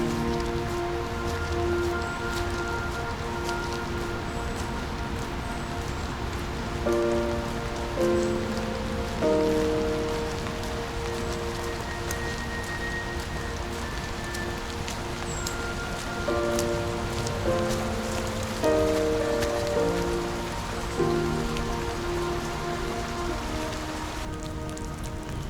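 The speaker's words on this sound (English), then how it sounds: "doesn't seem like the rain's gonna stop too" Steady rain falls outdoors, pattering continuously on surfaces with a dense hiss and scattered drips, while faint tonal background sounds drift in and out; no one speaks.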